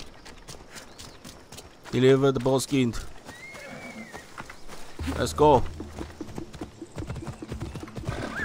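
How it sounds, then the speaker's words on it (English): Horse hooves clip-clop in the video game Assassin's Creed Odyssey, mixed with a horse's whinny, footsteps and game effects, while someone talks over it at close range. "The horse is still here, good."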